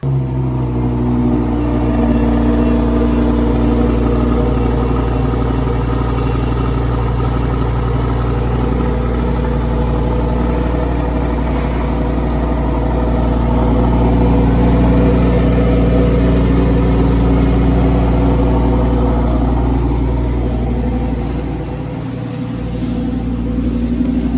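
The engine of a crashed Lamborghini Huracan Performante runs loud and close, holding a steady rumbling idle with a brief blip of revs partway through, and no one speaks.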